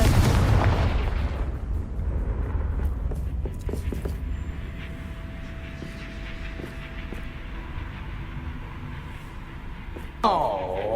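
A Confringo explosive spell is cast in the Hogwarts Legacy video game, giving a loud burst at the start that rumbles down into a long fading tail, with dull game ambience and a brief whooshing swirl near the end.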